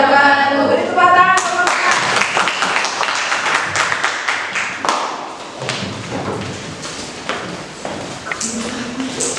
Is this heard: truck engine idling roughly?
no